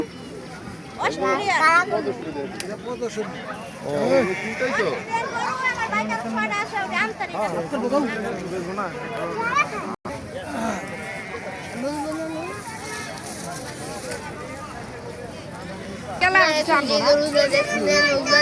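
Fat-tailed dumba sheep bleat repeatedly at a livestock show, the calls mixed with children's voices and busy chatter from a nearby crowd.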